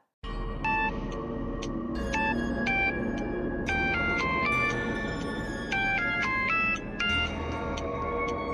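An outgoing phone call rings with a repeating electronic melody of bright, bell-like tones in a steady loop, close and clear, with no one speaking.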